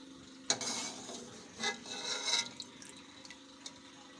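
Cooked meat for Kabuli pulao being lifted out of its yakhni broth and dropped into a separate bowl, wet sloshing and soft clinks of a utensil in a few short bursts, close and fairly quiet.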